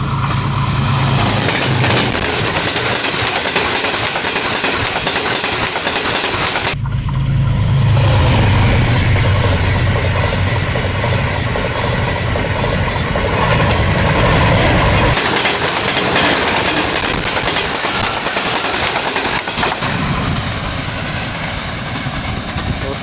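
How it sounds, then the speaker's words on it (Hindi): An express passenger train, the 5 Up Green Line, rushes through Sadhoke railway station in Pakistan, a loud continuous roar of wheels and carriages close by with a sudden shift midway as the cars stream past. "ये थी 5 अप ग्रीन लाइन जो कि गोली की तरह पास थ्रू हो गई है साधु के रेलवे स्टेशन से"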